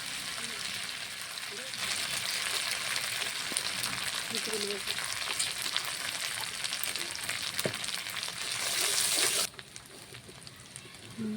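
Dried red chilli paste and turmeric frying in a pan for a cabbage and crab dish, a steady close sizzle and crackle filling the whole stretch before dropping off sharply near the end.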